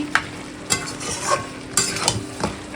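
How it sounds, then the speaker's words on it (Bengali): Mutton is sautéed in a pan, with a soft continuous sizzle broken by several spaced scrapes of a spatula stirring the meat. "তো মাটনটা এখন কষাচ্ছি"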